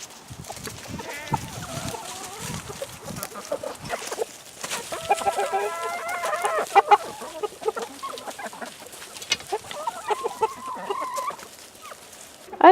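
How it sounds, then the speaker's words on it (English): Backyard chickens clucking and calling at close range in a garden, a busy run of short squawks and clucks that rises and falls across the whole stretch with a few louder bursts. "Here, chickens!"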